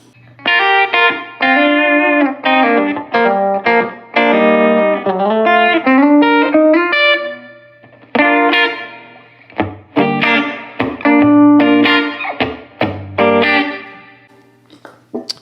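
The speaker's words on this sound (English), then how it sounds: "here's what it sounds like with a little bit of verb on it" Electric guitar played through a '62 Princeton amp, Chris Stapleton Edition, with a touch of reverb, loud clear chords and single notes ringing with a short pause midway and a soft tail.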